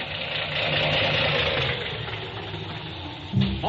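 A car engine runs unevenly with a misfire, a steady mid-pitched rumbling drone with slight roughness, ending in a brief louder clunk and shift.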